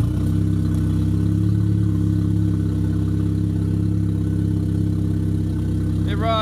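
A 1989 Chrysler TC 16v engine runs steadily at idle with its exhaust off, a constant low drone, close and loud, with a brief higher whine near the end.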